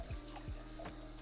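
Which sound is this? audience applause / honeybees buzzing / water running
water running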